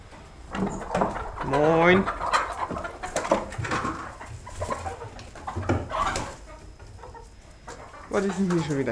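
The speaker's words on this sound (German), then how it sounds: "Und jetzt schmeißen wir erstmal noch die Hühner raus." Chickens on a farm being let out of their coop, clucking and cooing in irregular bursts, with some louder calls mixed in and occasional nearby talk.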